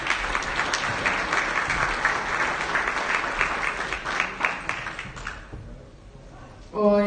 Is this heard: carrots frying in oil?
no